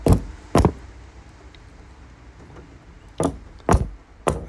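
Hammer blows knock a nail out of the bottom edge of a door in a tight space, two sharp strikes at the start and three more near the end, loud and close, with quiet pauses between.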